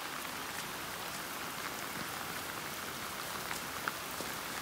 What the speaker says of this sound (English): it is pouring down raining.